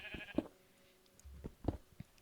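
Sheep bleating in the video game Minecraft, a few short quiet bleats spaced across a couple of seconds, faint and alone without talk.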